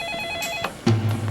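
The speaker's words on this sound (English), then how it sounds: "the phone rang." A telephone rings in an evening scene, with a short tonal electronic ring followed by a louder, lower buzzing ring burst, close and clear with no talk.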